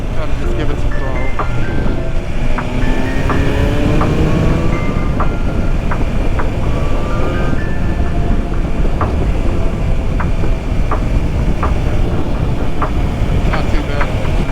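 A 2021 BMW S1000RR 999cc motorcycle accelerating in sixth gear gives a loud continuous roar with faint rising whine tones and heavy wind rush, with a rider talking over it.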